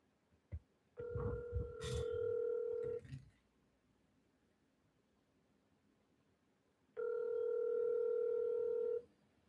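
Ringback tone of an outgoing telephone call, two long steady electronic rings about six seconds apart, preceded by a few brief clicks and keypress sounds, with no talk.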